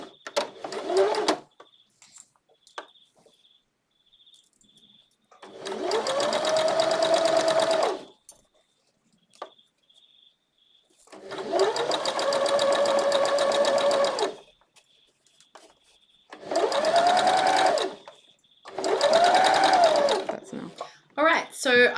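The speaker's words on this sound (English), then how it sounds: "And then I'm going to start sewing." Sewing machine stitching stretched elastic onto the legs of swimsuit bottoms, four bursts of close mechanical whirring, each a few seconds long, with quiet gaps between them.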